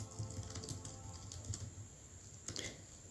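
Keys clatter on a computer keyboard while text is entered for a Christmas carol service church flyer, irregular clusters of close, crisp taps with short pauses, no voices.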